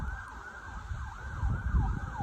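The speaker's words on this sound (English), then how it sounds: "Do you hear the ambulance?" An ambulance siren wails in a steady rising-and-falling cycle at moderate distance, heard over low rumbling traffic noise as it passes.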